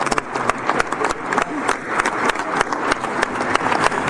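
Crowd applause with sharp, rhythmic claps and a steady roar at a UEFA congress re-election by acclamation, loud and continuous.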